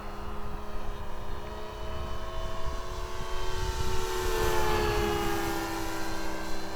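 An FMS Beaver 2000mm V2 RC model airplane flies at full power on a 4S battery, its electric motor and propeller making a steady, loud whine with shifting harmonics that swell slightly as it passes overhead.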